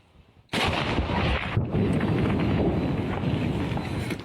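A loud, booming gunshot from a mortar blasts close to the microphone, followed by a long rumbling roar and wind-like noise that lingers for several seconds.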